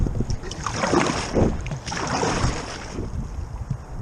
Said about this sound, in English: And I'm just going to paddle a little bit.